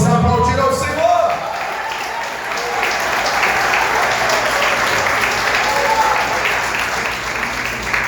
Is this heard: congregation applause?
yes